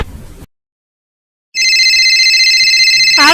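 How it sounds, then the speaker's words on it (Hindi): A telephone rings with a loud, steady electronic tone that starts after a brief noise and a second of silence, then keeps going in a continuous pulsing pattern. "आ रहा है फोन।"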